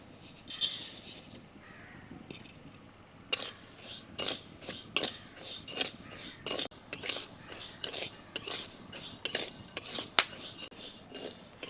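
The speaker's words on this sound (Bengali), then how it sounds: "তার জন্য আমি প্রথমেই এই চালটাকে শুকনো কড়াইতে ভেজে নেব" Raw rice dry-roasts in a dry kadai while being stirred, producing quiet, rhythmic scraping and rattling strokes of grains and a metal utensil against the pan, with short pauses between bursts.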